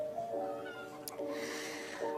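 A black cat meowing close by, three drawn-out meows in a row, indoors and with no speech.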